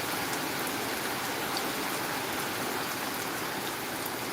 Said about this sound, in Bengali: এখন কিন্তু আবার অনবরত বৃষ্টি হচ্ছে